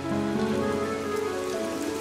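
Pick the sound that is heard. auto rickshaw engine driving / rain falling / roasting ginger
rain falling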